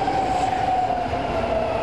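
A BART commuter train in the San Francisco Bay Area rolls past with a loud, steady rumble and a sustained metallic whine riding above it, close and continuous for a couple of seconds.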